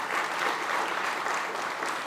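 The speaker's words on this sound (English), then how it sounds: "Round of applause." Steady audience applause fills a room at a South by Southwest food-event welcome session, dense and even throughout, with no voices over it.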